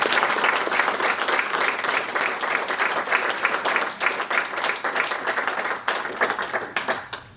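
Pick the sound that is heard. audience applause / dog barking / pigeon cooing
audience applause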